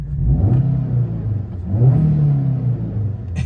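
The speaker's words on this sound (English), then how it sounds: "I'll give it a rev so you can hopefully hear the engine." A 2005 Daihatsu Terios 1.3 manual compact SUV engine revs up twice, rising and falling in pitch, close and loud with no talking.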